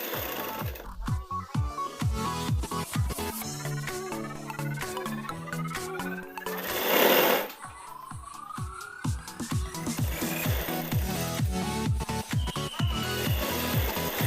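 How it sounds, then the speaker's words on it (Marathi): A sewing machine stitching a katori blouse rattles in a steady fast mechanical rhythm close up, briefly pausing with a whirring hum in the middle before the rapid clatter resumes, with no talking. "आता इकडनं पण मी शिलाई करते."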